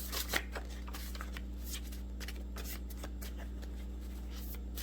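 Soft index cards used as oracle cards being shuffled over and over, a steady papery riffling at close range with no voices.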